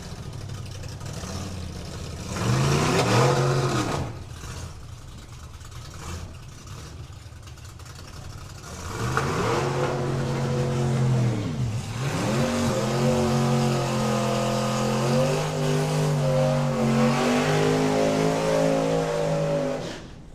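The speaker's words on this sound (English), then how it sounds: "Ted just making sure the tyres are worn out before the race proper starts on Saturday." Outlaw Anglia drag car at a drag racing event, its engine revving hard in long rising and falling surges between rougher idling stretches, loud and fairly close.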